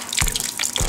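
Steady rushing water spraying from a hose, with a couple of brief louder bursts as the stream shifts, close and fairly loud.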